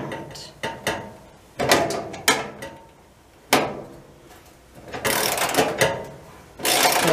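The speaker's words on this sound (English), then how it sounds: "If you have one of these socket wrenches and it seems like it's not loosening it and it's making that clicking noise" A socket wrench on a dryer repair, ratchet clicking and metal parts clanking in irregular bursts, close and fairly loud, with a harsher grinding rattle near the end.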